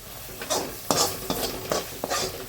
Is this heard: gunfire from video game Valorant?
no